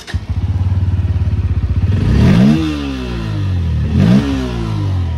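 A new Bajaj Pulsar N160 motorcycle in neutral idles with a steady, even thump, then revs up twice in quick swelling blips that fall back to idle, loud and close with no talking.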